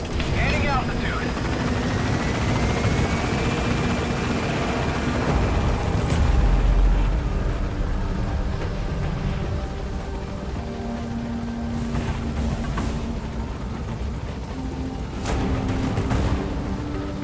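A helicopter lifts off and climbs in Metal Gear Solid V, a loud sustained rotor roar with a rising engine whine, voices speaking over it briefly.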